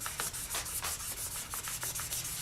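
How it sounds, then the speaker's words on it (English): Quick, repetitive strokes of 400 to 8000 grit sandpaper rub back and forth over polymer clay, a soft scratchy rhythm up close with no talking. "So I'll just be sanding from the 400 grit all the way up to the all up to an 8000 grit"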